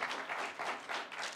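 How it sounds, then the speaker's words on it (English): Short burst of audience applause at an agile conference talk in Belgrade, steady, moderately loud clapping for just over a second. "Come on, give him applause."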